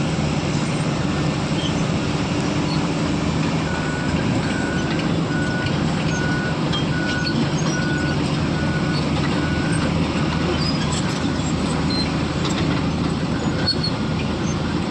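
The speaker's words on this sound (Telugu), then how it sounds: "ఇంకో ట్రక్ వచ్చి ఆగి ఉంది" Heavy machinery at an open coal mine, a constant loud diesel engine rumble with a regularly repeating reversing beep through the middle, no talking.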